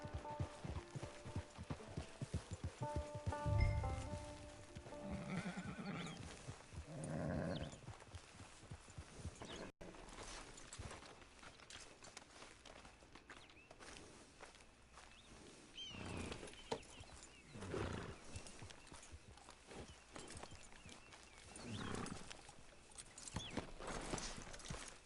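Horse hooves clip-clop at a steady walking rhythm in the Red Dead video game, soft and moderately close, with a brief snort or whinny early on and quieter hoofbeats continuing in faint ambience.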